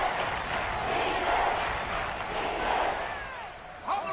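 A football stadium crowd before a big third down in the fourth quarter gives a steady, dense roar of cheering that swells and dips throughout, with a brief whistle-like sound near the end.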